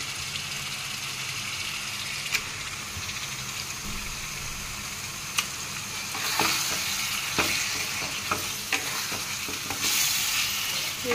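Spice paste and liver pieces stir-fried in a pan, with a steady sizzle and scattered sharp scrapes of a spatula, louder and busier in the second half.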